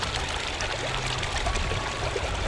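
Water pours and gurgles through a gold prospecting sluice box, a close, steady splashing trickle with bubbling flow running fast and continuously, with no voices over it.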